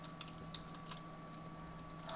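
Quiet, irregular clicks of typing on a computer keyboard, close and alone, a short burst of scattered keystrokes with small pauses over a steady low hum.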